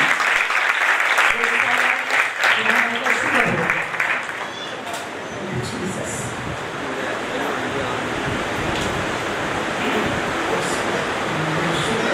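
Church congregation applauding at a first-anniversary service of an Assemblies of God church in Karachi, Pakistan: loud, dense clapping that eases into a steady, softer wash, with talk faintly underneath.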